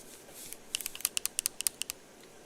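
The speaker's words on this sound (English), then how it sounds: "I'll do typing first." Typing on a computer keyboard with long nails makes a quick run of sharp, bright clicks. They are close and crisp, about a dozen taps in an uneven rhythm, heard alone over a quiet background.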